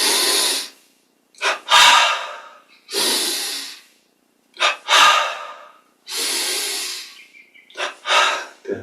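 Deep yoga breaths, long audible inhales and exhales alternating with short sharp snorting intakes, close to the listener and separated by brief silences, repeating in an uneven rhythm over several cycles.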